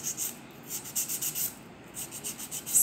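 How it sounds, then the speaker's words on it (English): A hand nail file of 100-180 grit rasps across fingernails in quick, steady back-and-forth strokes, close and fairly soft, with no talking. "I usually place my file right here and I just file"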